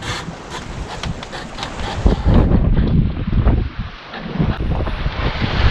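Wind buffets the microphone aboard a sailboat at sea off the Scottish coast, a loud, gusting roar with rushing water and waves beneath it, swelling and easing.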